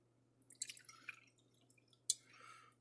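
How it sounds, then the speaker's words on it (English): Jameson whiskey is poured into a shot glass, giving a few faint, brief liquid trickles and drips in a quiet room, with one sharper splash near the end. "You got to pour a shot of Jameson."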